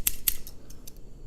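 Scissors snipping through craft material such as foam or foil for a cosplay template, two sharp clear cuts followed by several softer, fainter snips, close up and alone.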